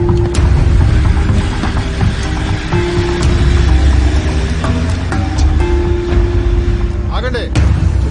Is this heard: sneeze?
no